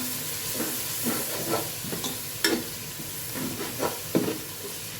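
Tikka biryani masala with curd sizzles and fries steadily in a pan while a spoon stirs it, giving soft scraping strokes and a few sharper clinks against the pan over a constant hiss.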